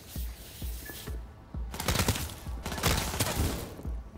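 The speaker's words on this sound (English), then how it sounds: "Who's shooting?" Gunfire in Cyberpunk 2077, a series of sharp, punchy single shots spaced evenly at first, then a dense rapid automatic burst, loud and close with no talking.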